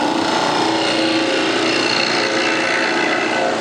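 A wood-turning tool cuts shavings from a bowl spinning on a lathe, a steady, loud, continuous rasping hiss that holds evenly from start to end with no pauses.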